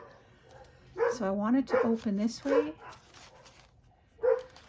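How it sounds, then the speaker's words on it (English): A neighbour's dog barks a few times in the distance, faint and intermittent under someone speaking nearby indoors. "that's the dog next door"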